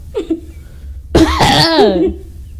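A short cough near the start, followed by a longer, voiced coughing burst with a rough, throaty strain, close and fairly loud.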